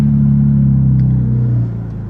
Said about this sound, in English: the car can be so loud